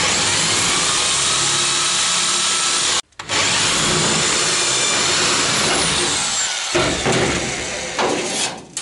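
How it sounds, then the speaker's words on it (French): A power drill whines loudly as it bores out rivets on the rear chassis of a Citroën Traction 11B, stopping briefly and then grinding on in bursts. "je mets un petit coup de perceuse sur les rivets"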